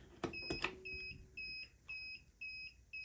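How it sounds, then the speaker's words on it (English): A vessel alarm panel beeps for a flooding aft bilge in a steady repeating pattern of short high tones, preceded by a few clicks, fairly quiet and with no voices. "we have 2 alarms that we can use as a test"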